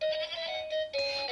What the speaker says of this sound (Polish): Owieczka beczy.